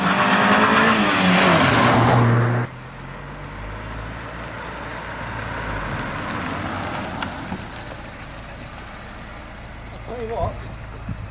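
A Honda Civic EK3 passes close by with a loud engine rush and brief tire noise in the first couple of seconds, then fades into quieter distant road hum, with people talking faintly.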